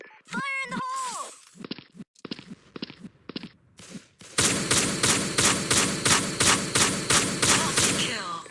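A shotgun in a zombie shooter game booms about a dozen times in a steady rhythm, loud and close, after a short stretch of game voice and scattered thuds.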